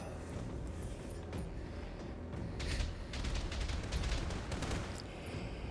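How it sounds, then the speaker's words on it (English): Turret supporting fire in the Battletech video game, a dense run of crackling gunfire bursts and impacts over a constant low rumble of battle noise, moderately loud and with no talk. "we have supporting fire coming from our turrets"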